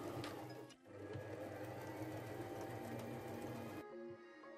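A sewing machine runs steadily, stitching a sweatshirt with the needle sliding over pins placed across the seam. It is a close, continuous mechanical whir with a brief pause near the start, then it stops and the room goes quieter.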